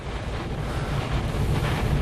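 Strong thunderstorm gust front wind roaring against the microphone, a loud, rough, buffeting rumble that swells and rises throughout with no talk.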